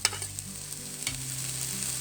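Chopped carrot lightly frying in a pan for a chicken sandwich, a steady soft sizzle with occasional stir scrapes, close and continuous with no voices.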